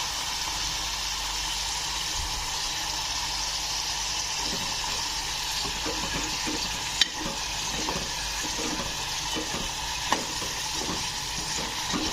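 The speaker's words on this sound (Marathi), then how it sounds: "आता बुरजीचा कांदा भाजून होतोय" Onion frying for egg bhurji, a steady hissing sizzle close by with repeated scraping stirs of a spatula through the pan over twelve seconds, a couple of sharp clinks, and no talk.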